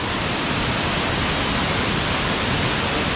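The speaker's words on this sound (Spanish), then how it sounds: "Vean a dónde llegamos, esta cascada." Waterfall at Cueva de Cuauhtémoc in Chiapas, a steady broadband rush of falling water, loud and unbroken with no other sounds over it.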